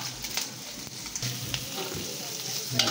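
Garlic and ginger frying in a pan for pork sisig give a close, steady sizzle with stirring scrapes and small pops, and brief speech is heard faintly underneath.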